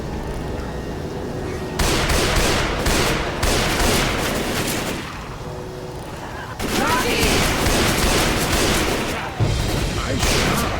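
Dense bursts of gunfire from Left 4 Dead 2, zombie-survival shooter action in an old courtyard, loud rapid volleys in several waves with brief pauses between, mixed with voices shouting over the shooting.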